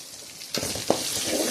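Ginger garlic paste sautés in a hot pan with a continuous close sizzle, lifted by two sharp stirring knocks partway through.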